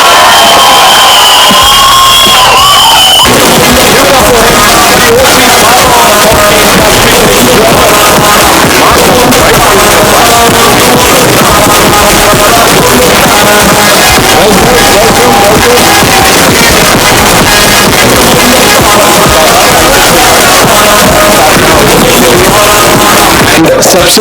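At a film trailer launch event for The Bhootnii with Sanjay Dutt, a large audience roars, cheers and shouts loudly and continuously. A quieter few seconds with a tonal sound open the stretch before the crowd noise swells.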